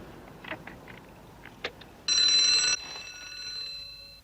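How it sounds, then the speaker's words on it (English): A bright electric cable car alarm bell rings for under a second amid faint background clatter, then its tone lingers and fades. "That sounded like the cable car alarm."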